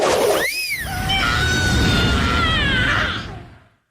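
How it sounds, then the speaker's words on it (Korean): A man gives a loud, dramatized scream as he is dragged away by soldiers. The cry rises and wavers over a dense, crashing background of effects, then cuts off at the end. "조나라의 볼모로 던져진 찌질이 자초의 비명소리다"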